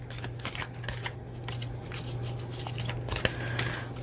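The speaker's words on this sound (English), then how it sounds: "The heart ones are a little hard to shuffle" A deck of tarot cards is shuffled in a steady run of soft, rapid riffling flaps and clicks, close and fairly quiet over a low hum.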